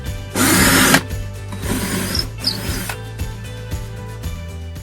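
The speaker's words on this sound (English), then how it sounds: "I'm gonna go ahead and drill through my desk so that I can anchor my wood stove to the desk" A power drill bores through a desk to anchor a Cubic mini wood stove, running in a loud steady whine for about half a second, then quieter grinding and bursts continue with a low hum underneath.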